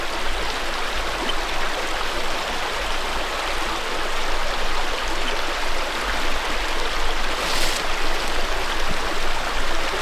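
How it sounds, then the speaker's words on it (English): A loud creek rushes through a charred, burned forest, its flowing water making a constant dense roar close by that fills everything, with no voices over it. "Creek's so loud it's hard to tell what you're hearing."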